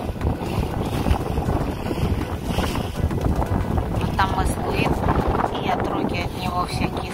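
Strong wind roars steadily over the microphone on a sailing boat in the open ocean near Cape Leeuwin, with swell and waves beneath and brief voices in the background.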